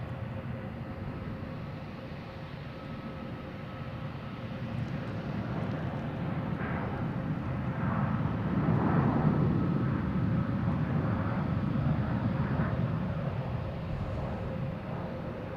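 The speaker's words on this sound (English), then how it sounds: "Here's Japan Airlines heading to Tokyo, Narita. Flight 7, the 787-900" A Japan Airlines Boeing 787-9 departs Boston Logan Airport bound for Tokyo Narita, its engines giving a continuous, distant roar that builds gradually to a peak midway and then eases slightly, with no voices.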